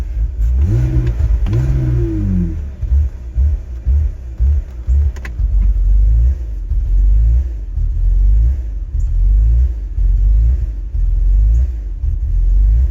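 A BMW E46 engine idling and revving roughly from a vacuum leak, failing to take throttle; loud, uneven low rumble with brief surging revs near the start, then a steady lumpy drone throughout.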